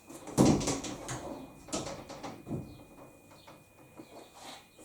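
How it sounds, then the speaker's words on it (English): Sliding doors on a Tormach CNC machine enclosure roll open with a loud clunk and rumble, then a few lighter knocks and rattles follow as the panels travel and settle. "Okay, so swinging slide doors,"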